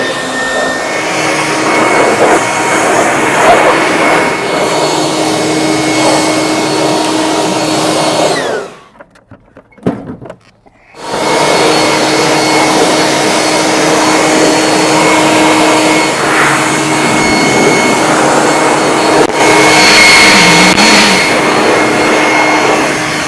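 A Black & Decker two-speed leaf blower runs as a loud, steady whine for about eight seconds, cuts out briefly with a few sputters, then starts again and holds its even roar to the end.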